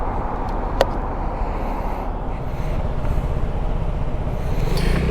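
A Vespa scooter rides along Skyline Drive toward Germantown, its engine a steady broadband drone with continuous road and wind rumble throughout and a brief sharper click near the start.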